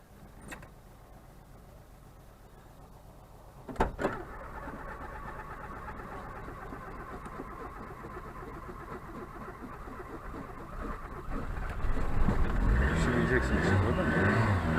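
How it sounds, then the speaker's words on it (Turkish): Car with a flat battery jump-started from a cordless drill battery: a sharp clunk near four seconds, then a steady mid-pitched engine idle that swells as it is revved, with people talking throughout. "gördüğünüz gibi aracımız çalıştı"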